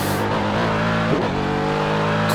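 A race car powers out of a corner at Sebring International Raceway with the throttle squeezed on gradually. The engine note is loud and close, a continuous rising roar with a brief dip midway, as if shifting, and no voices.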